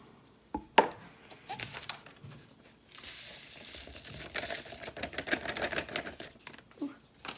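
A spice mixture for a vegan meatloaf whisked in a small bowl, starting with a few sharp knocks before a fast, rattling whisking that builds to a busy, steady clatter up close.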